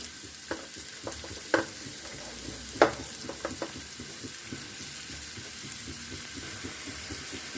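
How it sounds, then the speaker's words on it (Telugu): Chopped onions and green chillies frying in a hot oiled pan, a steady soft sizzle broken by a few sharp crackles and pops, close and alone. "సన్నగా తరుకు పెట్టిన ఉల్లిపాయ ముక్కల్ని మొత్తం వేసేద్దాం"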